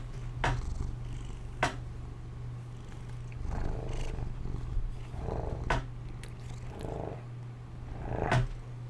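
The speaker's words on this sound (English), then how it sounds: "Some purrs for the microphone, huh, kitty?" A pet cat purrs close up, a steady low rumble running under the whole stretch, broken by a few louder clicks and rustles.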